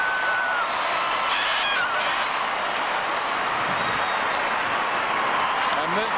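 A football crowd at a 1994 Round 21 Adelaide Crows versus Brisbane Bears match roars and applauds in a steady, loud wash of noise as Brisbane's hopes end, with a commentator's voice over the crowd.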